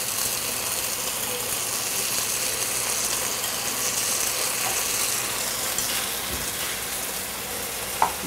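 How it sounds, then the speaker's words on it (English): Onions frying in a pan for chicken biryani give off a continuous, even sizzle close up, with a faint stir or tap near the end. "don't want to burn the onion, you want to make it very uniform golden color."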